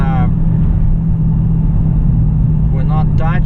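A 2018 Dodge Challenger R/T 392 Scat Pack with a 6.4L Hemi, stock exhaust and an Airaid cold air intake, cruises with a steady low rumble from inside the cabin, and brief engine revs rise near the start and end.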